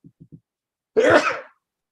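A single sharp, forceful sneeze, preceded by a few quick soft catches of breath, then silence.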